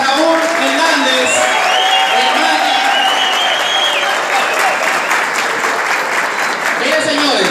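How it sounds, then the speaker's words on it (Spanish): An audience of employees applauds the candidates, loud dense clapping from a crowd with voices and cheers rising through it, steady and close for the whole stretch. "El aplauso para Mionis Mansa, Raúl Hernández."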